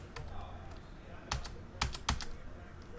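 A few scattered clicks of typing on a computer keyboard, quiet and close, with brief clusters of keystrokes over a low background hum.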